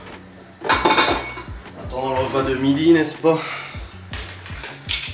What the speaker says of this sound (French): le lave-vaisselle. Je le vide.